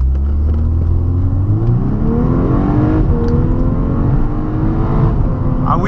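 Volkswagen Golf 6 R with a 270 hp engine and four-wheel drive accelerating hard, its engine note climbing steadily in pitch through the gears, loud, close and continuous with no talking.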